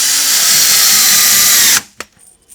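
Power drill driving a screw into an equalizer slide on a five-legged table, one loud close steady whir that cuts off abruptly, followed by a brief clunk and faint handling noise.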